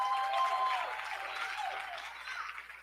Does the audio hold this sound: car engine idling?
no